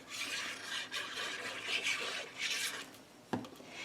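Paper being trimmed for an 8 x 8 mini album, a steady close rasping and scraping of a cutting stroke running almost the whole time, with a sharper knock near the end.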